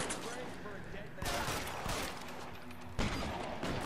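Rapid gunfire from the video game L.A. Noire, dense bursts of shots running continuously through a shootout with a brief lull between volleys.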